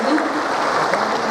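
Applause from the audience at a Jashn-e-Urdu ceremony in the Shri Krishna Memorial Hall, a brief steady wash of clapping filling the hall.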